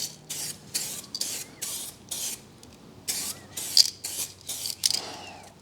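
Spray paint hisses onto a car body in short, close bursts, about a dozen sharp sprays with brief gaps between them, and no talking.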